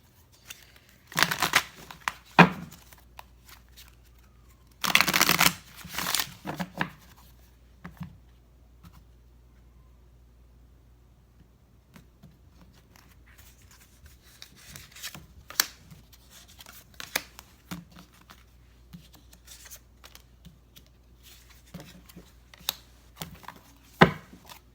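Tarot cards are shuffled and picked in short papery bursts of riffling and snapping, loudest early on, followed by scattered soft flicks and taps as cards are drawn, with no talking.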